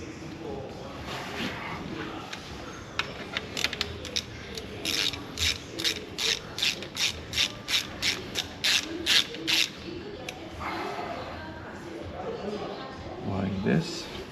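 A ratchet clicks in a quick rhythmic run of about fifteen strokes, tightening a bolt on the timing chain guide of an Audi A5 2.0 TFSI CDNB engine, close and fairly loud, with soft workshop rustling before and after.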